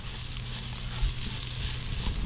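Chopped onion sizzling in oil in a clay pot, a steady, even crackling hiss that runs throughout with a low hum beneath it.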